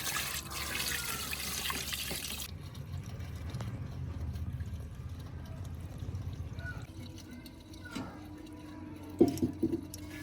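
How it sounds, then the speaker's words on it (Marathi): Water being poured off soaked wheat pulp in a container, starting with a brief gush, then a steady trickle and splashing, and ending with a few clinks near the end. "चिकामधलं पाणी ओतून काढायचं सगळं"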